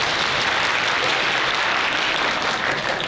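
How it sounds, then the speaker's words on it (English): A high school talent show audience claps along during a comedy act, a loud, dense wash of many hands clapping at a steady level throughout, with no talking over it. "Everybody clap your hands."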